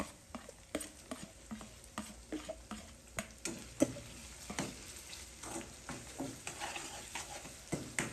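Ground coconut, chili, cumin, garlic and ginger paste sizzles and fries in hot oil, with repeated stirring clicks and scrapes rising above a steady crackle, close up, with no talking.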